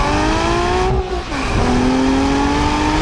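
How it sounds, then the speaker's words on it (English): A Porsche Boxster Spyder of the 987 generation with its flat-six engine drones steadily nearby, its pitch dipping briefly then climbing again as the car passes or shifts, loud and alone without talk. "Sounds flat sixy, sounds like a Porsche."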